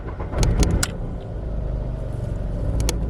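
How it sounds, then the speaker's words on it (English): A car engine cranks and catches roughly, then settles into a steady low idle rumble, with a few light metallic clinks early on; the car has a camshaft position sensor fault (code P0342). "When I start my car"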